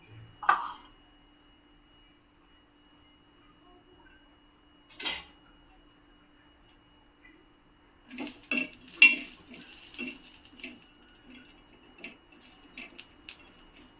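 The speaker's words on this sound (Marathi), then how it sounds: "सर्वप्रथम आपल्याला याच्यामध्ये मिरच्या टाकायच्या आहेत" Green chillies go into a hot pan for mirchi thecha and are stirred with metal utensils, bringing clattering scrapes and clinks. A few isolated knocks come first, then a busier stretch of stirring and pan contact near the end, with no talk.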